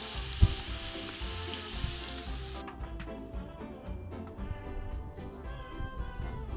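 Zucchini, mushrooms and steak sizzle on a barbecue at a beach camp, a fairly soft steady hiss with a few knocks, the high fizz dropping away partway through while quieter background sounds continue.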